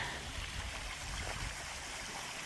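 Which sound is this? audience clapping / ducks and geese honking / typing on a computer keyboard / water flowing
water flowing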